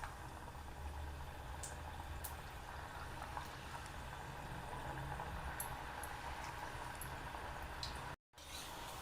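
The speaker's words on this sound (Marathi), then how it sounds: "आपण आता खरपूस अशा तळून घेणार आहोत." Wheat-flour kapnya fry in medium-hot oil, a quiet, steady fizzing and bubbling sizzle that continues evenly without pause, faint and close, with a few small ticks and no talking.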